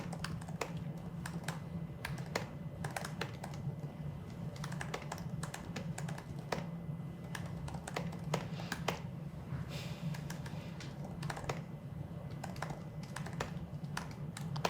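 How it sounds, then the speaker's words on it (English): Someone types on a computer keyboard close by, a continuous stream of quick light clicks with occasional heavier key strikes and brief pauses, alone and without any talk. "So I'll just type this in."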